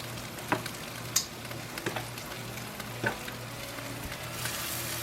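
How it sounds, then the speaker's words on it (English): Pork chops seasoned with porchetta spice sizzle on a grill, a steady close frying hiss with scattered pops and crackles, no voices. "Grill up our pork chops"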